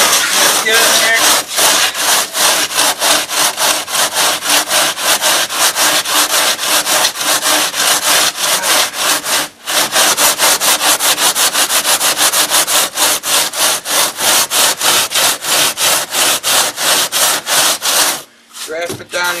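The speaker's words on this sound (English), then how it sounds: "got our trusty rasp here from hotwire.com, hotwirefoam.com. Get the trusty rasp." A hand rasp carves carving foam in quick, even back-and-forth strokes, a loud, close, scratchy rhythm that runs almost without pause, with a brief break midway and another near the end.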